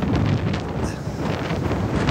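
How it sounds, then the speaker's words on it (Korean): Strong wind from Typhoon Maysak at a beach roars steadily across the microphone, a dense rumbling buffeting with no voices. "여러분들 바람 소리 들어가."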